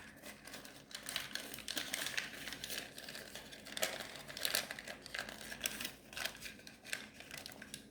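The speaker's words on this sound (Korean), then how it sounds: "이 부분도 똑같이 접어줍니다" Paper creased and folded by hand for an origami gold dragon, close up: continuous soft crinkling and crisp rustles with sharper snaps of creasing, steady throughout with no voices.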